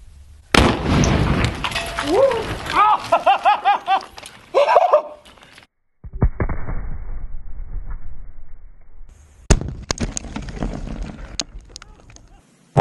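An RC grenade goes off and blows up a bunker: a sudden loud, sharp blast, then excited voices and laughter, a quieter stretch, and a second broadband burst near the end.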